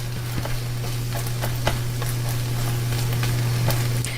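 Scrambled eggs cook in a pan with a steady soft sizzle, broken by occasional scrapes and taps of stirring, heard close up and alone with no voices.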